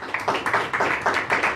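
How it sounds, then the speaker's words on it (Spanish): Congregation clapping in rhythm at a church service during a Holy Spirit seminar, steady repeated claps of a crowd, fairly loud and continuous with little talk. "Denle un aplauso a Jesucristo."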